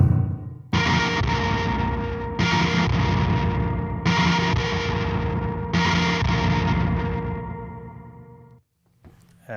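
Four loud, sustained electric guitar chords run through chorus, delay and reverb pedals, with a shimmering, swirling effect, each ringing out before the next, fading into a short silence.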